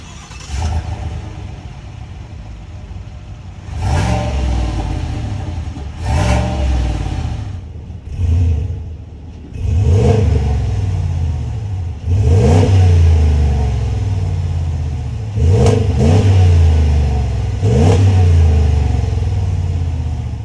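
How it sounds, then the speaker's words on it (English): Engine of a 2021 Ram 1500 Laramie or 2021 Silverado High Country pickup truck accelerating, with repeated loud rising revs through the gears separated by short shifts, heard steadily up close with no talk. "let's take these trucks out for a drive and really see the differences between how these vehicles perform"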